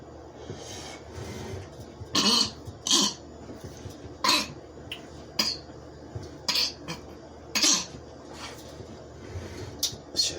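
Someone coughs repeatedly in short, harsh bursts spaced a second or two apart, close by in a quiet room with faint kitchen clatter.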